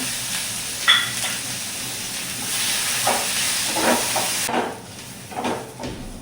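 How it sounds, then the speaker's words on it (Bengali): Green chillies, onion and garlic fry in hot oil in a pan, a continuous close sizzle with stirring scrapes and bursts of louder crackling, no voices. "এবার আমি ভেজে নেব কাঁচা লঙ্কা, পেঁয়াজ আর রসুন। এগুলিও আমি লাল করে ভেজে নেব।"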